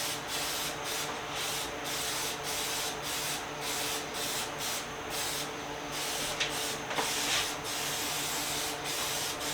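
A workshop extraction fan pulls spray paint overspray away while a retro Cosco stool is being refinished, giving a steady broadband hiss with faint periodic pulses throughout, fairly quiet and alone.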